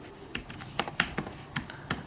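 C++ code typed on a computer keyboard, with a steady patter of close, crisp keystrokes at an uneven rhythm and no talking.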